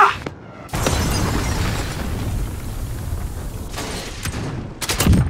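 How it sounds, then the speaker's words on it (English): Cruise missile strike in Call of Duty Modern Warfare (2019) multiplayer: a loud explosion bursts in and sustains a heavy roaring blast with debris crackle, fading slightly, then fresh sharp bangs near the end. "Allied cruise missile away."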